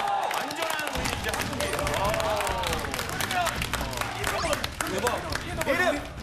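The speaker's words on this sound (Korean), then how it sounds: "박수 한번 주시기 바랍니다." A studio audience at a Korean variety show claps in a crisp, crowded patter that continues under loud talk, laughter and overlapping voices.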